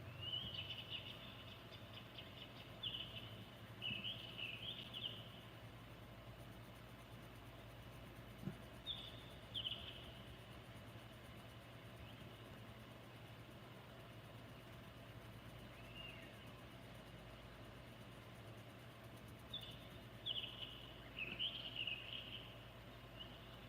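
Evening birdsong in short bright bursts comes and goes over a steady low hum and faint insect-like background, moderately distant with no talking.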